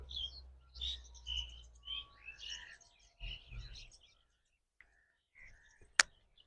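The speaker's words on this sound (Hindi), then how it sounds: "ये सारी ना जंगल मैना थी, जंगली पाइड मैना।" Jungle mynas and pied mynas call at Yamuna Biodiversity Park in Delhi, a series of short, varied chirps and whistles in close succession, with soft whispering voices and a sharp click near the end.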